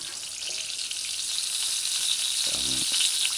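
Curry powder sizzles and fries in a hot pot while being burned before goat meat is added, a close, steady crackling hiss with a brief stirring clatter near the end.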